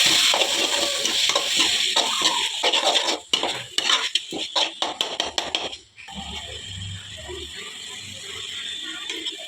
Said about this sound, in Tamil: ஸோ தக்காளி நல்லா வதங்கட்டும்.